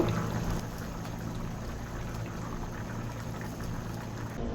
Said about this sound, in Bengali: এখন ঢাকনা দিয়ে দশ মিনিট আমি এইভাবে ফুটিয়ে নিব তরকারিটাকে